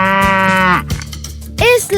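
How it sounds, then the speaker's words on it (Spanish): A cow moos loudly and close in a children's animal-sounds guessing game: one long, drawn-out low call, a short pause, then the start of a second moo. "¡Es la vaca!"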